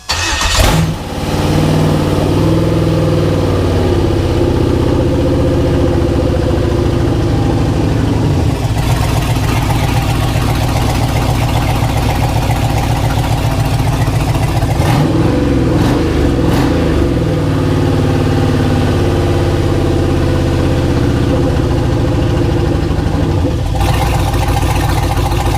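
An LS-swapped Chevrolet Suburban engine cranks and fires, then settles into a loud, steady idle with a brief rev change midway, heard up close with no talk over it.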